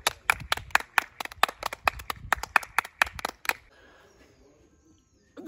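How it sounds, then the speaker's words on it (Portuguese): A crowd claps in a brisk, uneven burst of sharp hand claps lasting a few seconds, then the applause stops abruptly and leaves quiet room noise. "Uma salva de palmas."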